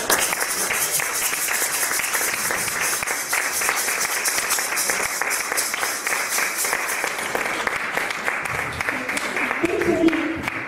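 Sustained applause from an audience at an evening of boleros at the Ateneu de Tarragona, steady dense clapping for over ten seconds with voices mixed in, swelling slightly near the end.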